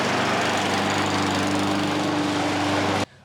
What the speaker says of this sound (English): I have him do most of the mowing, as you will see.